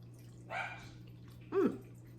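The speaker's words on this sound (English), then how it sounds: "Not so much my dog when she barks in the middle of the video though." A pet dog barks twice in a home kitchen during slow cooker ranch chicken preparation, two short muffled woofs about a second apart over a steady low hum.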